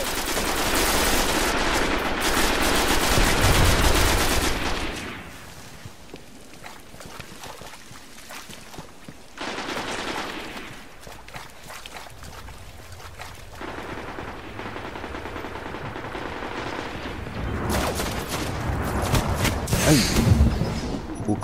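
Bursts of automatic gunfire in Destiny's PvP beta, loud rattling volleys at the start and again near the end, with quieter shots and someone talking in between.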